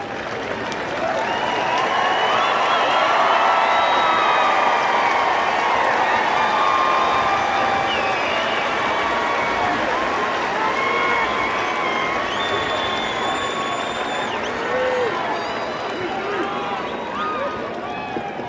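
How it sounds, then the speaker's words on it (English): A graduating West Point class applauds their families at a 2022 outdoor ceremony, loud sustained clapping and crowd noise with cheering and scattered shouts filling the whole stretch. "give a big round of applause to your families"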